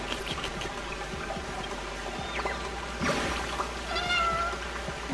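A cat meows a few times in the game Honkai Star Rail, short soft calls over a quiet trickling water ambience.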